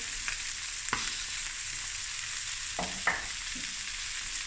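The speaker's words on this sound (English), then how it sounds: "the chicken has just lightly fried on both sides. Now I'm going to add my ginger" Chicken pieces lightly fried on both sides sizzle steadily in a pan as ginger goes in, a constant close frying hiss broken by a few soft clicks and scrapes of stirring, with no talk.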